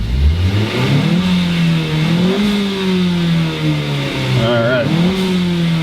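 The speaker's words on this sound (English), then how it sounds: "So give it a little gas." A turbocharged Nissan Sentra engine revs loudly and close up, its pitch rising and falling through several throttle blips, with a brief spoken word over the engine.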